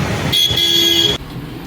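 Car horns blaring loudly in a jammed street during a festival-day crowd, one long steady honk over a dense wash of traffic noise that cuts off abruptly near the end.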